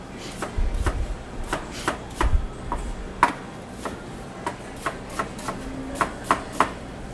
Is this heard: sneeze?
no